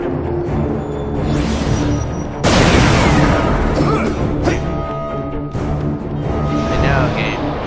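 Gunfire, booms and crashes in the video game Spider-Man: Edge of Time, loud, dense bursts of shots and impacts with a big blast midway, under game voices and music.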